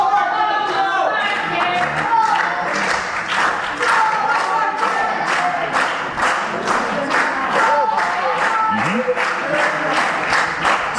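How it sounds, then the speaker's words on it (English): A big, loud crowd at a UKW Friday Night Showdown wrestling event claps and cheers in a dense, steady wash of applause, while a commentator talks over it. "Nice big crowd in, nice loud crowd in again, as usual for Friday Night Showdown here"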